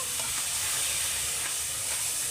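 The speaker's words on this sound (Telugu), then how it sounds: "ఇప్పుడైతే టమాటో పేస్ట్ వేసేస్తాను" Tomato paste goes into a hot frying pan for a drumstick curry, giving a steady, close sizzle with soft hissing steam that continues evenly throughout.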